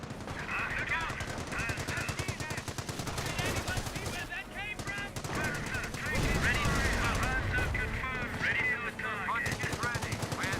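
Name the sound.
30 cal machine gun firing in Company of Heroes video game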